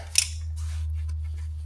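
A sharp snip as zip tie tail is cut off a steering rack boot clamp during inner and outer tie rod replacement on a 2005–2010 Jeep Commander, one crisp click near the start over a steady low hum.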